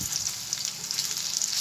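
Gourd kofta balls dropped into hot oil in a kadai, giving a steady, close bubbling sizzle with a constant hiss throughout.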